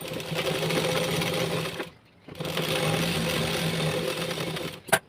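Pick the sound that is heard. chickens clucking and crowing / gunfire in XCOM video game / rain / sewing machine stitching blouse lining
sewing machine stitching blouse lining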